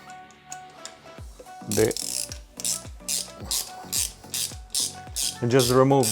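A socket ratchet clicks rapidly and loudly up close while undoing a 10mm bolt on an Aprilia Tuono motorcycle, with bursts of pawl ticking and someone talking in between.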